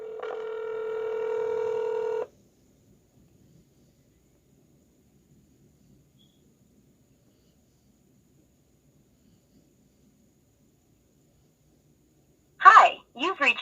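A phone call being placed: a steady electronic ringback tone plays for about two seconds, followed by a long silence, then a voice starts talking at the end.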